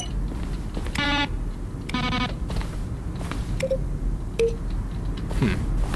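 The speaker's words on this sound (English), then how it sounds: "Button sounds." Two short electronic beeps with a buzzy tone, then a few softer blips and chirps over a steady low hum, menu button sounds in The Stanley Parable.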